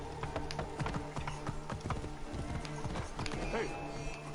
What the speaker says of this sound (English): Throw you on the horse. Get on the horse.